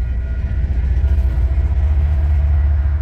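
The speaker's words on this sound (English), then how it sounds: "Trains!" A train passing on railroad tracks beside a campsite at dawn, heard as a loud, close, steady low rumble and roar that fills the whole stretch without a break.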